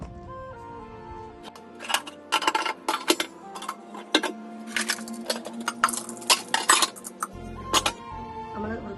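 Freshly washed kitchen utensils and vessels are set down one by one in a home kitchen, giving a series of close, irregular clinks and clatters spread over several seconds, with quiet gaps and no speech.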